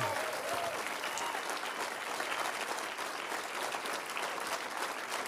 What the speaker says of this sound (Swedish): En stor och varm applåd för dem.